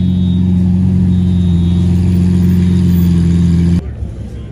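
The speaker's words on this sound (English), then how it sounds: "Aventador out of nowhere, matte black" A matte black Lamborghini Aventador roars with a loud, sustained engine drone close by during Monterey Car Week, then cuts off abruptly near the end, leaving quieter background noise.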